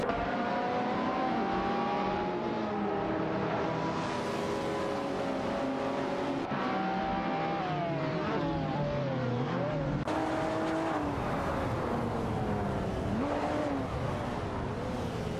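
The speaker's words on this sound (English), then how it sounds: "Let's enjoy some epic AI race car action together." Race cars in an AI racing video game roar continuously, engines rising and dropping through gear shifts, with overlapping cars and occasional tire squeal under commentary.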